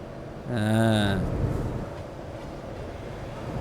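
A train passes in the truck-driving game Euro Truck Simulator 2: a loud horn-like tonal blast lasting about a second, then a steady rumbling wash of rail noise that fades slightly but continues throughout.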